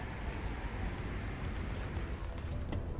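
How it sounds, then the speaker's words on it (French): Rain falls in the underwater survival game Subnautica: Below Zero, a continuous soft hiss with a low rumble, fairly even throughout and fading slightly at the end. "Ah non, non, c'est la pluie."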